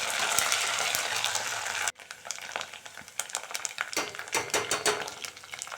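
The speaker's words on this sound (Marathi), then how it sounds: "त्याच्यामध्ये आता मी आलं लसूणची पेस्ट घातलेली आहे आणि आता थोडंसं ते हलवून घेऊया मिश्रण" Ginger-garlic paste stirred in hot oil: a steady loud sizzle at first, then after a sharp cut, quieter spoon scrapes and clinks against the pan with soft frying underneath.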